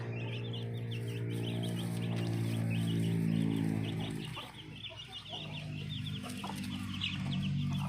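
Black chickens on a small rural farm cluck in repeated short calls over a steady low background hum, fairly close and continuous.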